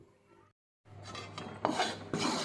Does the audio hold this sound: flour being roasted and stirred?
yes